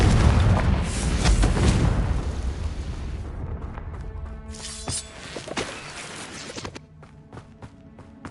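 A Confringo spell blast in the video game Hogwarts Legacy: a loud, deep explosion roars up at once and rumbles away over a few seconds, leaving lighter scattered impacts and footstep-like thuds behind.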